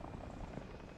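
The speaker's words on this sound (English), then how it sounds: "Helicopter," A helicopter flies overhead, its rotor and engine making a loud, steady broadband drone that fills the whole moment without a break.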